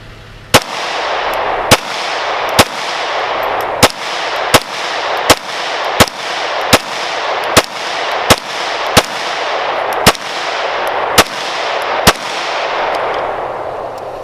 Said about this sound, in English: There's some pumpkins there, and I figured I'd shoot some while I was here.